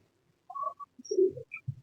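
A pigeon from a high-flying breed coos in short, soft bursts, close by and clear against quiet surroundings.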